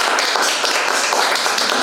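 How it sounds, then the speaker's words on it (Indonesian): Close, dense group clapping in honour of Pak Roman, a steady brisk patter of many hands with no talking. "Kita tepuk tangan untuk Pak Roman."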